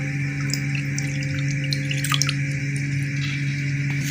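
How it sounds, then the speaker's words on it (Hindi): Water being poured into a bowl while milk boils for a jelly pudding dessert, a soft continuous trickle with light splashing over a faint steady kitchen hum. "इसमें जो पानी आपने ऐड करना है वो आपने नॉर्मल जो है पानी ऐड करना है।"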